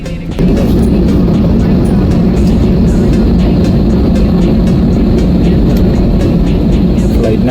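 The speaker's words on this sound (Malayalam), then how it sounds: "അങ്ങനെ ഏകദേശം ഫ്ലൈറ്റ് നെടുമ്പാശ്ശേരിയിൽ നിന്നും പൊങ്ങാൻ പോവാണ്" An airliner taking off from Nedumbassery airport, heard from inside the cabin as a loud, steady low engine roar that swells in abruptly and then holds without a break.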